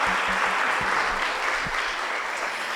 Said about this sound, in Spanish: Este otro fuerte aplauso es para todas ustedes